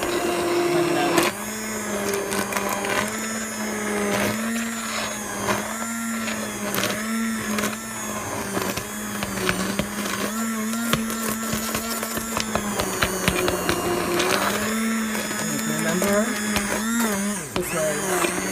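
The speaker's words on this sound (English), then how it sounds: "I'm going to blend all this together. All these vegetables." Vegetables (carrots, mushrooms, celery, onions, fresh bell pepper and about four garlic cloves) being blended, a steady motor whine running near and loud throughout, with small shifts in pitch as the load changes.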